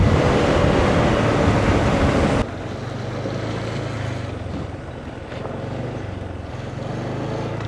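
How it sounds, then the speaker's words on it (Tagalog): Steady broadband hiss of rain falling under a dark sky near a garage, loud and continuous; the level drops abruptly partway through, then the rain carries on softer with a low rumble beneath. "Ulan na naman."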